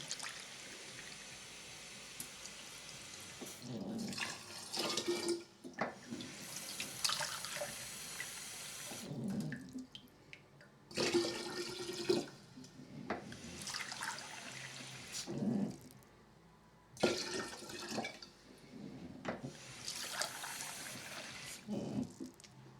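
Tap water runs in several bursts into a container of soaked amaranth and quinoa for homemade rejuvelac, each pour stopping and restarting in a kitchen, with no speech.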